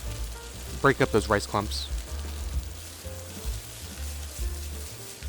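Hawaiian-style fried rice with peas and carrots sizzles in oil in a pan, a steady crackling hiss under a brief spoken line from a cook.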